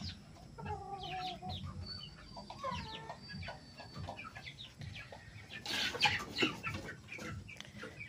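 A bull stag gamecock rooster, about fifteen months old, gives a series of close clucks and short calls, with some rustling and a brief noisy burst partway through.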